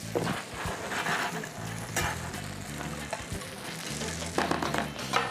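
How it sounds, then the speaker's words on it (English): Banana French toast searing in a hot pan gives a steady, close sizzle with fat crackling throughout, alongside a low tonal background. "once I flip them, I'm just gonna press down on them just a little bit so I get that nice even sear"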